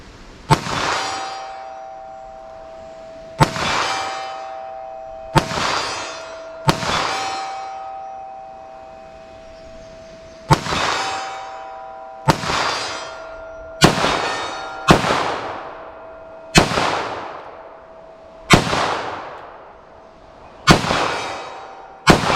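Around a dozen pistol shots fired at steel targets 75 yards away, each a sharp report followed by a ringing metallic clang that decays over a second or two, spaced irregularly at one- to three-second intervals.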